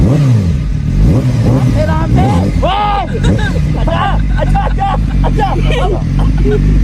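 An expensive motorcycle engine drones loudly while being ridden, a constant close rumble with rising revs, and people talk over it throughout.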